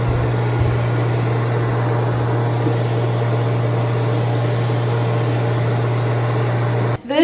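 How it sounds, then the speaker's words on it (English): A hooded hair dryer attachment hooked up to a blow dryer runs with a steady, loud, even whirring hum and airflow noise, then is briefly cut off near the end. "you hook the dryer into it, turn it on, and you just sit while it dries your hair"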